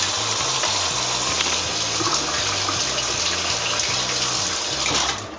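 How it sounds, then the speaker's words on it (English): Water runs steadily from a kitchen tap while greasy hands are washed beneath it, a continuous close splashing gush that fades out at the very end. "Let me just wash my hands a little bit because they are so greasy now."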